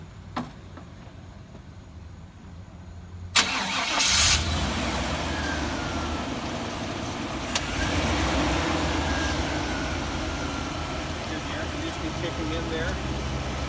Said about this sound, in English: We'll start it up while we're there by the engine compartment.